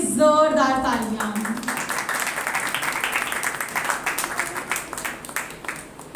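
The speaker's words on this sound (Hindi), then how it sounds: "उसके नाम के लिए जोरदार तालियां" Church congregation applauding, dense broadband clapping that swells after a brief opening of voiced speech and carries on steadily through the rest, moderately loud.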